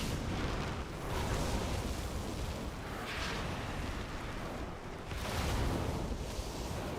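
Bombs detonate during a video game boss fight, a dense rumbling wall of booming blasts that swells and recedes in waves, loud and continuous.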